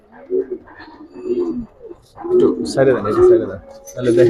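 Homer pigeons coo in a few soft, throaty bursts close by, with someone talking over and between the calls.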